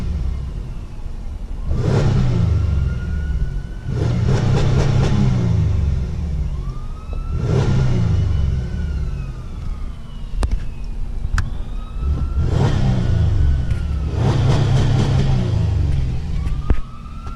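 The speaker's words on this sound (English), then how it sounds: "So now we're gonna give her a couple revs because it does sound very healthy." A Pontiac Grand Prix GTP engine is revved repeatedly, with loud low-pitched surges rising and falling about every two to three seconds. The engine sits close, and no talk covers it.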